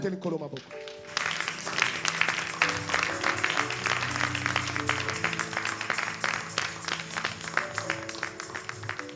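A church congregation applauding and cheering together, a dense sustained wash of clapping over loud music and voices, continuing for several seconds after a brief lead-in.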